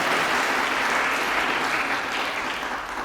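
Wedding guests clap steadily through a ceremony, a dense, sustained applause filling the room and fading slightly near the end.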